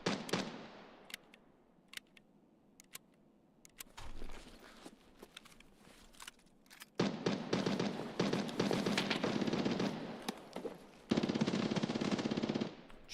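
Gunfire in Escape from Tarkov: scattered single shots and clicks, then long loud automatic bursts hammering on, briefly cut off and resumed.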